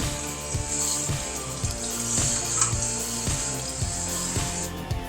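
Water running steadily through a Triton shower head while it is cleaned, a continuous hiss and splash nearby, moderately loud and unbroken, with faint knocks now and then.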